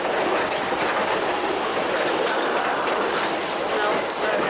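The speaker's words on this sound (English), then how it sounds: "we get to ride the Durango and Silverton Narrow Gauge Railroad" A narrow gauge train on the Durango and Silverton line in Colorado rumbles along loudly and continuously, wheels clattering on the rails, with brief high squeals near the end.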